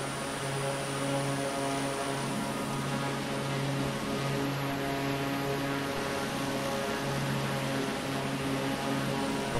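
A propeller aircraft in Microsoft Flight Simulator 2020 taking off from a farm airstrip near Custódia, Pernambuco, its engine drone steady and even with a constant tonal hum throughout, no voices over it.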